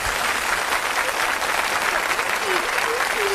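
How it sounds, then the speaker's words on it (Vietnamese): Audience applause at a live Vietnamese comedy stage show, a dense burst of clapping from the crowd, close and loud, with faint voices briefly under it. "Xin quý vị cho một tràng pháo tay."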